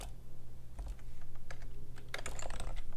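Rapid, uneven tapping of keys while details are entered into a phone app, steady and close with a low background hum.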